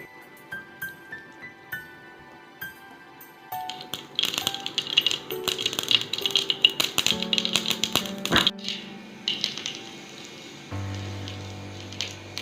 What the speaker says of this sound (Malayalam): എണ്ണ ചൂടായതിനു ശേഷം കടുകിട്ട് 1 ടീസ്പൂൺ കടുകിട്ട്